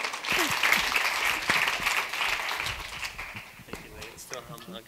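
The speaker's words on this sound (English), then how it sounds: "Can we give her a big round of applause?" Audience applause at a talk on eating for beauty, a loud sustained burst of clapping with cheers and whoops, fading gradually toward the end as a voice comes in.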